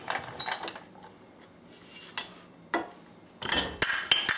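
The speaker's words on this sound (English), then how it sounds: "you can start taking the screwdriver and just twisting it to pry the cap" Metal scraping and clinking as a screwdriver is twisted to pry the center cap off a 2005–2014 Ford Mustang front wheel hub, with sharp broadband scrapes and clicks in bursts, growing louder and more frequent toward the end, no talking.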